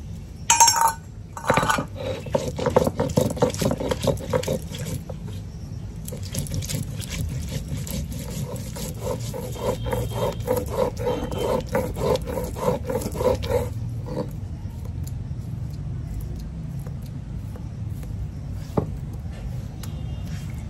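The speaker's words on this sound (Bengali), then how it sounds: "তো দেখো এখন আদা রসুন জিরে একসঙ্গে বাটা হয়ে গেছে" Ginger, garlic and cumin are ground together, a loud continuous whirring grind with rattling clatter that runs for about thirteen seconds, then cuts off, leaving quieter background noise and a few faint knocks.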